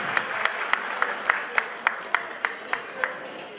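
Sparse, sharp claps ring out at an even pace, about a dozen distinct hits in a roomy space, like slow rhythmic applause from a small group at a Turkish wedding.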